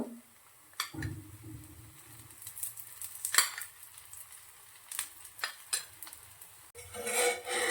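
Sweet corn roti fries in oil on a pan with a soft, intermittent sizzle, broken by occasional scrapes and clatters from the pan and a louder hiss at the end.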